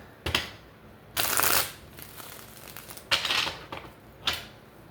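A deck of tarot cards gets shuffled in several separate bursts, close riffling and flapping rushes with short pauses between them, no talking.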